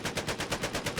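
Rapid automatic gunfire in the video game Battlefield 4, fired at an EFV amphibious vehicle, a steady burst of about ten evenly spaced shots in one second, loud and close with no talk.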